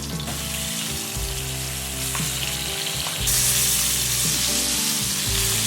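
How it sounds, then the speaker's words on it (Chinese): Green pepper pieces stuffed with seasoned minced meat, ends dusted with dry starch, sizzle steadily as they stand upright in a pan of hot oil. The close, continuous hiss holds even throughout, with a faint low tonal hum beneath. "把青椒段先竖着放入油锅当中煎制"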